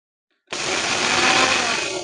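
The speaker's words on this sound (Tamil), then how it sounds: "இப்ப ஃப்ரை பண்ணி வச்சிருக்க இன்கிரீடியன்ஸை பொடியாக்க போறோம்" Fried spice ingredients for a wedding-style vathal kuzhambu being ground into powder in an electric mixer grinder, a loud steady whirring roar that starts abruptly and runs without a break, with no talk over it.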